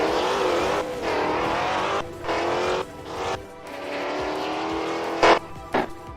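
A race truck circles on a pace lap at a Supertruck race, its engine a loud, close, steady roar with brief dips and shifts between gears and a couple of sharp peaks near the end.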